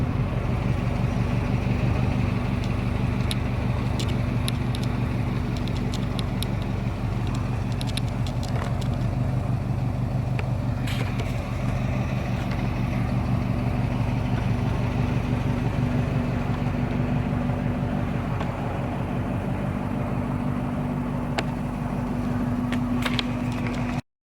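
A Yamaha XS650 motorcycle engine idling close by, a loud, steady, throbbing thrum running evenly throughout before cutting off at the very end.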